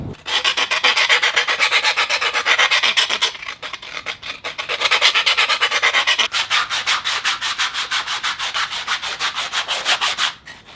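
Freshly drilled holes in sheet metal are deburred by hand, giving a steady rapid rasping scrape in quick repeated strokes with one short pause midway, close and loud with no voices.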